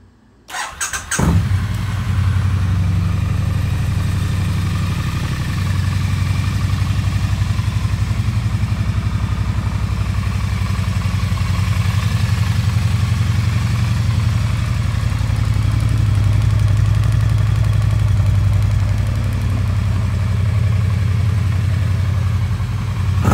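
A 2021 Triumph Bonneville T100 motorcycle catches after a brief starter crank and settles into a steady, loud, close-up idle with a deep even thrum.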